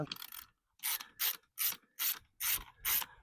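A hand ratchet is flipped and spun during a car interior modification, giving a quick run of six or seven loud clicking bursts in an even rhythm, close by and with no talking.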